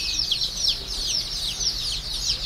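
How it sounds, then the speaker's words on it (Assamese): Chickens on a small poultry farm of about 200 birds, including local fowl, give a steady chorus of rapid, high chirping calls that overlap continuously throughout, with no talking. "200 মুৰ্গী আছে"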